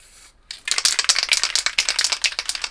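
Spray paint can hissing in rapid short bursts to dab small colourful stars on a planet painting, loud and close, a quick rattling rhythm of spurts after a brief pause, with no voices.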